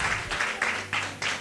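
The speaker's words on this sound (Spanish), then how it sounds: "Vamos a darle un fuerte aplauso a nuestro Dios." A church congregation claps in short, rhythmic bursts during a worship service, several quick waves of applause following one another at close range.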